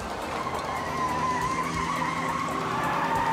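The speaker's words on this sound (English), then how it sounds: "He whips a wild U-turn and puts the pedal to the metal." A car in a police chase whips through a wild U-turn and accelerates, its tires skidding and squealing in a loud, sustained screech over the roaring engine.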